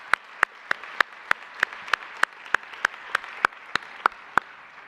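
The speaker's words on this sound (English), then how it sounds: "I think we should just give them all a quick round of applause" Applause for sponsors at a cryptography conference, heard as a regular train of sharp single claps, about three per second, crisp and fairly close, standing out above a low background murmur.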